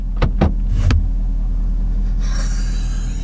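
Several vehicles from a hotshot trucking crew pull out and roll away, a low steady engine rumble with a few sharp thumps near the start and a brighter whoosh of passing traffic fading toward the end.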